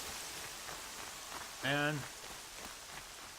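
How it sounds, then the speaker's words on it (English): Steady heavy downpour in Horizon Zero Dawn, a continuous even hiss of rain across the whole stretch, with a brief voice and a short tonal blip breaking through near the middle. "Wow, it's pouring."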